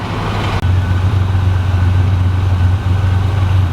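A Buick Grand National engine idles steadily and loudly up close after a fuel injection rebuild, a smooth low rumble with a constant hum and no voices.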